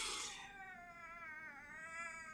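A pet cat gives a long, wavering meow, drawn out and plaintive, fairly faint over a low background noise.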